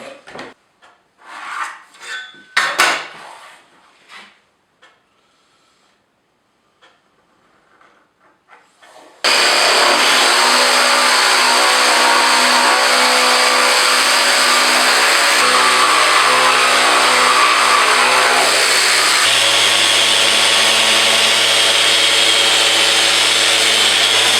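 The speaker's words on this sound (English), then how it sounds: "I've now decided that I'm going to tidy up these ends with the jigsaw, so that's my next job." Jigsaw cutting the ends of a wooden bench: a few light scraping and handling sounds, a short pause, then the saw starts with a loud, continuous buzzing rasp close by that shifts pitch slightly as it cuts.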